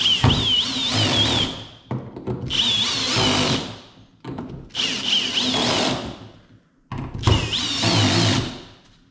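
A power drill on low torque whirs in four sustained bursts with short pauses between, close and loud, its motor pitch rising and falling as screws are driven into a kayak cover plate.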